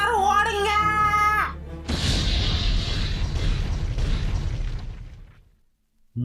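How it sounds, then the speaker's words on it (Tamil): A cartoon bomb goes off in a single loud, broad boom that rumbles for about three seconds and then fades, coming right after an animated voice and music. "டம்மி பாம்பு நினைச்சுக்கிட்டு தான் இவர் இழுத்தாரு, அது படார்னு வெடிச்சிருச்சு"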